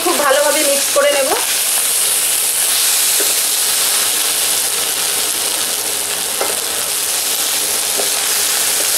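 Rice being mixed in a hot pan for raw mango rice: a loud, continuous hissing sizzle that holds steady throughout, opening with a quick clatter of stirring.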